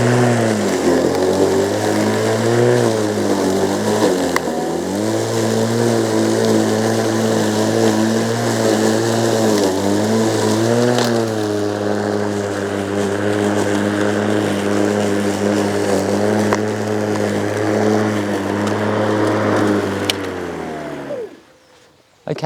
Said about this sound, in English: we're cutting at 35 mil this long grass, so let's see how well it performs.